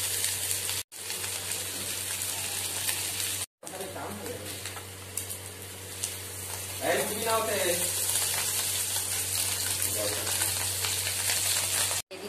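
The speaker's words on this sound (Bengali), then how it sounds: "ডিমটা প্রথমে ভেজে নিই।" Eggs with salt and turmeric frying in oil in a pan, a close steady sizzle broken by a couple of brief silent cuts, while someone talks over the frying.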